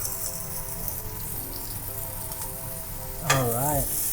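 Chorizo, onion and garlic frying together in a pot, giving a steady, close crackling sizzle throughout, with a brief louder scrape of stirring near the end.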